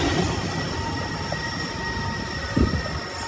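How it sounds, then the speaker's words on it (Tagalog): Train passing at Sentosa, Singapore, a steady broad rumble with faint tonal whine running throughout, heard from nearby outdoors with a brief louder thump near the end. "May train!"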